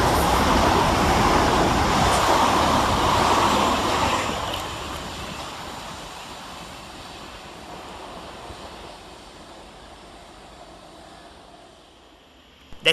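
Class 387 electric trains roll past at Burgess Hill railway station, a broad rushing roar close by that fades after a few seconds into a quieter lingering hiss, with a sharp click at the end.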